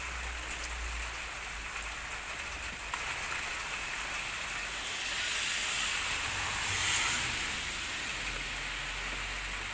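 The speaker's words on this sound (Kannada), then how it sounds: "ನೋಡಿ ಫ್ರೆಂಡ್ಸ್, ಈಗ ಜೋರು ಮಳೆ ಬರ್ತಾ ಇದೆ." Heavy rain from the season's first downpour pours steadily in a village, a dense unbroken hiss that swells briefly midway and carries on with no voices.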